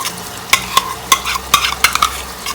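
Yogurt stirred into sizzling masala for Lahori-style egg chana, with a spoon scraping the pan in sharp, regular strokes over a steady frying hiss, close and clear, no voices.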